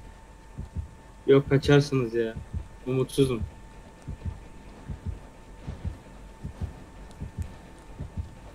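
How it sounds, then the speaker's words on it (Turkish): Heartbeat thumps pulse steadily through Dead by Daylight gameplay, a low, regular throbbing that keeps going beneath and after a short stretch of speech. "Kalp atışı duydum yine de."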